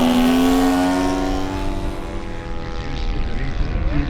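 P-51 Mustang with a Merlin engine flying at an air show, a loud droning propeller tone with a falling pitch as the plane passes and fades, followed by rumbling wind noise.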